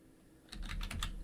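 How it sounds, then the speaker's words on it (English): Typing a command on a computer keyboard, a short quick burst of several close, crisp key presses after a quiet moment. "There's a lot to type here."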